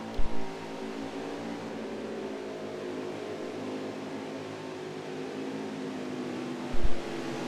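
Race cars drone under caution at Road America in a racing video game, a steady engine hum with no voices, broken by two brief thumps near the start and end.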